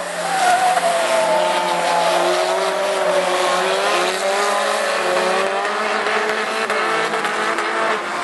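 Two rallycross race cars slide side by side through the joker lap, engines droning loud and steady with drawn-out tyre scrubbing and shifting pitch, and no voices over them.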